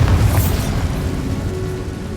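Bombarda spell explosion from the video game Hogwarts Legacy: a deep, loud boom opens the moment, then a low rumble trails off over a couple of seconds with no voices.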